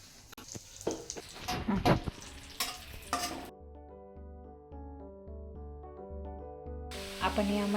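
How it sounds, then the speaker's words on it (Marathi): Cashews and almonds fry in hot ghee over low heat for carrot halwa, giving a steady sizzle with stirring scrapes and clatter for a few seconds before music takes over. "यात आपण काजू आणि बदाम तळून घेणार आहोत।"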